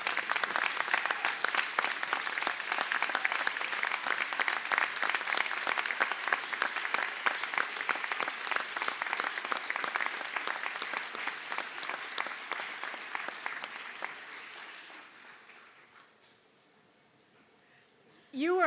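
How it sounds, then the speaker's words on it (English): Graduates at a university conferring ceremony in Sligo applaud their families and friends in a long, dense round of clapping that fills a large hall, then gradually fades to near silence near the end. "perhaps give your families and friends a round of applause as a bit of a thank you"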